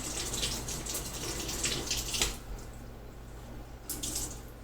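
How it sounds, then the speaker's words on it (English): Water poured into the top of a homemade PVC sword handle modeled on a Hobbit blade, running and sprinkling out a small corner hole in a steady, close, faucet-like splashing that eases off midway, then briefly returns. "I actually poured water in the top here and sort of sprinkled out the little hole here in the corner"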